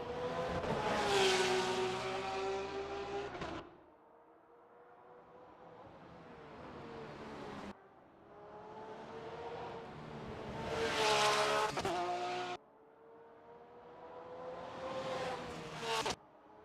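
Engines of race cars in a GT World Challenge-style racing video game at Paul Ricard scream through rising gear shifts and drop off abruptly, several loud high-revving bursts between quieter lulls.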